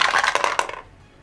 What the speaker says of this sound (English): So please roll 3 dice for me